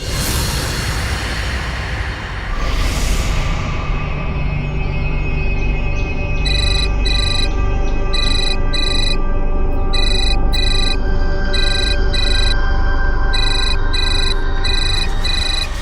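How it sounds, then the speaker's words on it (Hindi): A phone ringtone trills in repeated short bursts, a steady electronic pattern ringing over a dense background hum. "कम से कम फोन तो उठाओ।"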